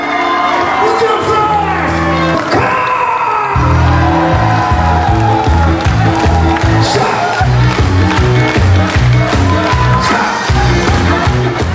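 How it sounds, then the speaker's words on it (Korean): A crowd cheers and shouts at a concert held in front of a fish stall in Pyeongtaek's Tongbok Market, the cheering loud and continuous over pounding music with a strong beat. "침울했던 시장은 흥겨운 음악과 사람들의 환호로 넘쳤습니다."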